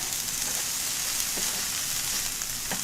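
Pea sprouts sizzle on a grill alongside shrimp and vegetables, giving a steady, close frying hiss with a few faint pops and no talking.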